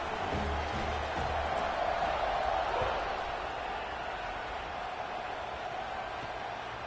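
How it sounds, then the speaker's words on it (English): Stadium crowd noise in College Football 26 during an Iowa versus Jamaica game, a steady broad roar that swells slightly then eases as the kickoff approaches. "this crowd is buzzing after that last score"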